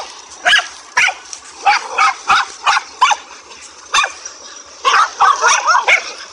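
Several dogs bark and yip loudly in rapid, repeated bursts while fighting a cobra outdoors, with some whimpering among the close, agitated calls.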